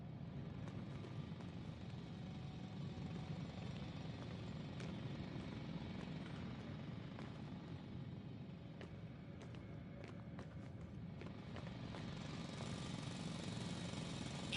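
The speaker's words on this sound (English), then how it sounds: "It's a drill! So damn loud!" A loud, unbroken mechanical drilling roar in The Invincible video game grinds on for the whole stretch, dense and close, with scattered sharp knocks over the top.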